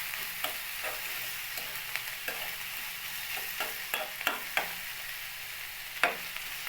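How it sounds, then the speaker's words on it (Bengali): Two eggs sizzle softly in oil for an egg bhuna while a spatula scrapes and taps the pan in irregular strokes, fairly quiet and close. "তো দুটো ডিম আমি ভুনা করতেছি"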